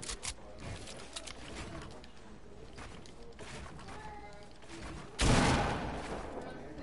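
Rapid bursts of gunfire in a shooting video game crackle at a distance, followed by a louder, closer blast near the end. Faint voices can be heard underneath.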